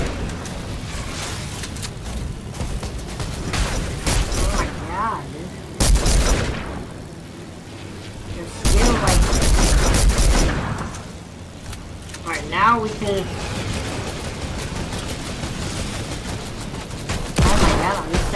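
Rapid bursts of gunfire and booms from the shooter video game Air Royale come in repeated loud volleys, with a player talking over them.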